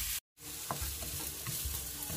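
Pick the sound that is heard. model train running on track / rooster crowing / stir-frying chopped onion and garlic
stir-frying chopped onion and garlic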